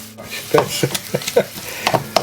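Beef mince browning in a hot pan, stirred and pushed around with a utensil, giving a quick run of scraping strokes over a faint sizzle.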